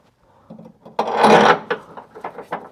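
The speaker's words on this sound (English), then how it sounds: "now I can go ahead and insert the new subframe bolt" A new rear subframe bolt being pushed into place on a Subaru WRX STI. Close, dry metallic scraping and rasping comes in short bursts, with one longer grinding push in the middle.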